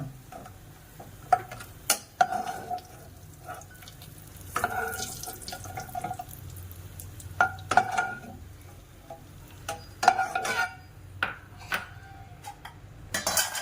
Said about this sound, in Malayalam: ഇനി നമുക്ക് നമ്മുടെ കാജു അതുപോലെ ഒന്ന് ഫ്രൈ ആക്കിയെടുക്കാം.